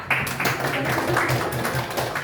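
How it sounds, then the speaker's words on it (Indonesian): A classroom of students claps for a classmate named Hema, a dense, steady patter of many hands close by, with a little voice mixed in. "tepuk tangan buat Hema."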